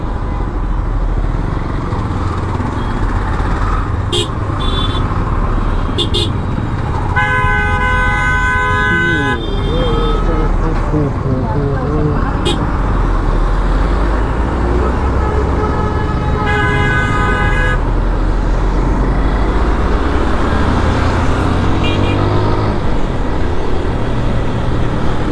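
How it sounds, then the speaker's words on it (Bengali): Road traffic jam during Eid holiday crowds, with many bikes on the road: repeated car and motorbike horns honk over a constant engine and road rumble, with a rider talking throughout. "এখানে আবার জ্যাম লেগে গেল কেন?"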